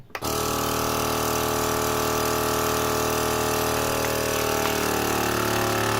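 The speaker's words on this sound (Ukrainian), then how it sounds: "Ні, добре вакуумується. Добре відкачало повітря, добре вакуумується." A vacuum sealer hums steadily while pumping air from a bag of salted Bukovyna brynza cheese, a loud, even motor drone with a strong tonal buzz that starts abruptly and holds for several seconds without voices.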